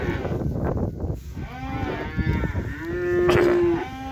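Akbas calves lowing in a farm pen, with several moos at moderate distance, including a rising call midway and a loud sustained moo near the end, over a background of livestock rustling.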